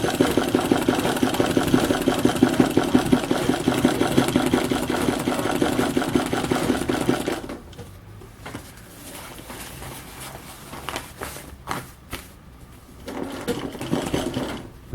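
A domestic embroidery machine stitches an abstract design in a hoop, its needle beating in a fast, steady mechanical rhythm for about half the time before stopping, followed by quieter handling noises and a brief resumption.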